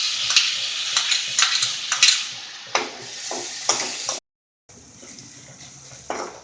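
Mutton liver masala with tomato sizzles loudly in a hot pan, Indian village style, while a spoon stirs and scrapes in repeated bursts, with a short break before the steady frying resumes.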